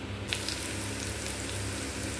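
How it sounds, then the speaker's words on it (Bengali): Potatoes and vegetables fry steadily in oil in a kadai, a continuous close sizzle with a faint clink near the start. "এখানে কড়াই তেল দিয়ে দিয়েছি। এবার সবজি আলু তুলে দেব"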